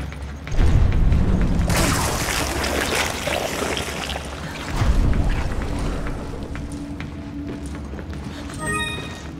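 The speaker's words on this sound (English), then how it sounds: "It's ripping the ship apart!" A ship being ripped apart in Resident Evil 5, with heavy booming impacts and grinding, tearing metal crashes rumbling loudly over several seconds, followed by quieter creaking.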